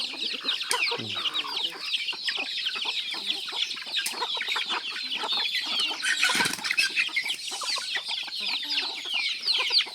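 Chickens, including broody hens, cluck busily at close range in a dense, continuous chatter, with a low thump and a burst of wing flapping partway through.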